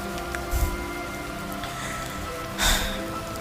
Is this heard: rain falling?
yes